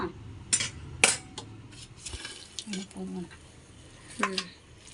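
Chicken biryani is served onto a plate, with a few distinct clinks of a spoon against dishware and soft scraping among quiet pauses, close and fairly faint, with light speech nearby.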